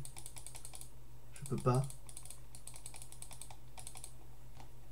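Computer keyboard typing on a Linux test machine, a steady run of light clicks and taps near the microphone, with a brief spoken phrase in the middle.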